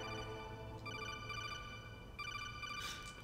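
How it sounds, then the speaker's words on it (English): The codec call in Metal Gear Solid rings out as a high, electronic trilling tone in repeated bursts, soft and steady over a low background hum, with no talking. "Was that the codec I hear? Yeah, I got a phone call."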